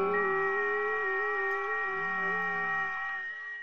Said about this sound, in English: we're tuned in the SDR to the FT8 frequency, which you can hear